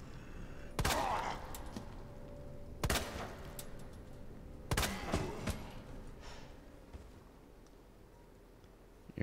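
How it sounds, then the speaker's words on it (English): Gunshots in Resident Evil 2 aimed at a zombie: three sharp, loud reports spaced about two seconds apart, each followed by a brief decay, over a quiet game ambience with no talk. "Well, shoot that zombie."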